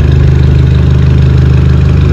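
A Mercedes C250 AMG W204 with a modified exhaust idles steadily close by, a deep, even burble with a rhythmic low pulse that runs on without a break.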